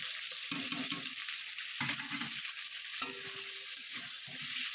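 Ground turmeric, cumin and coriander fry and sizzle in a pan, heard up close with a steady hiss and repeated bursts of stirring scrapes, and no talk.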